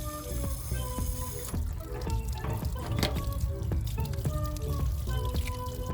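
Water gushes and splashes out of the drain of an RV water heater while it is flushed with a wand, a continuous watery rush broken by irregular drips and spatters, close and moderately loud.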